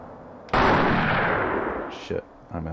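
Sniper rifle fire in the video game The Thing: one loud, sharp gunshot booms and rolls off over about a second and a half, followed by a couple of short, fainter mechanical clicks and clunks.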